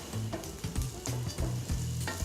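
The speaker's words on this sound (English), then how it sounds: "just add some fresh sage, and that's gonna fry up and give it a lot of flavor" Fresh sage leaves fry in a hot pan before pasta goes in, giving a steady close sizzle with soft stirring scrapes and bursts of crackle, with no talking.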